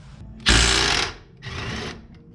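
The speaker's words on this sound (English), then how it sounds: "Or you possibly have an air hammer." Two loud bursts of a pneumatic air hammer working on a Volvo S40 front suspension, rattling rapidly, the first longer and harsher, separated by a short pause.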